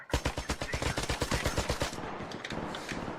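Rapid automatic gunfire in Rainbow Six Siege, a fast steady string of close, loud shots lasting about two seconds before stopping, followed by faint scattered game sounds.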